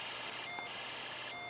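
A Snap Circuits electronics kit plays tones from an alarm IC and a music IC, switching back and forth between them in a continuous electronic beeping at moderate level.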